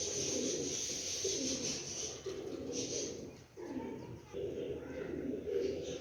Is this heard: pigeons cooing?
yes